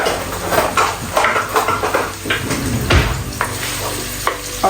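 Chopped onions with a little garlic hit hot oil in a pan, sizzling steadily under intermittent scraping and stirring sounds and clinks of utensils against the pot, close and fairly loud with no talking.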